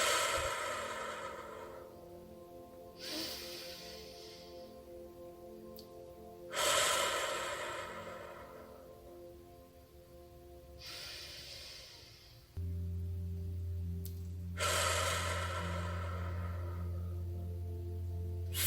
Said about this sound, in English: Take a few deep breaths deep into your belly.